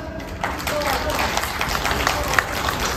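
An audience claps after a stage singing performance at a Chacha Town Kokura event, steady scattered applause with crowd murmur under a voice speaking over it.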